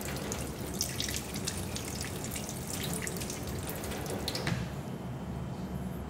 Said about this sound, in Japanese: こうさっとね、お腹の中だけさっとこう洗うような感じで大丈夫だと思います。